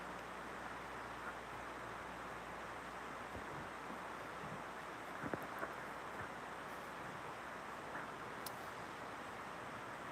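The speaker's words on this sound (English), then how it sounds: "it just got really windy when I walked up to my window" Steady, faint wind hisses outdoors without a break, with a few soft knocks and a distant thin tick over the broadband rush.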